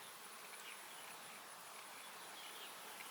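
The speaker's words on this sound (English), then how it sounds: "That one has had the most bees on it." Honey bees buzz steadily in a dense, continuous swarm drone across a hive frame being filled with pollen and honey, a close, even hum with no talking.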